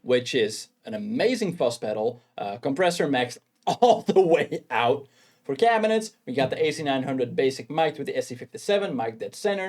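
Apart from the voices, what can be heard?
None of the usual background noises is heard.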